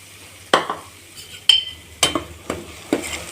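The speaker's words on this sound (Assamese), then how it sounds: "এইখিনি গৰম উঠি আহিছে তেলখিনি। ইয়াতে মই দি দিম এতিয়া পিঠাগুড়ি।" Pithaguri rice flour added to hot oil for halwa crackles briefly as a spoon clacks and scrapes against the pan in several distinct strokes, close and without talk.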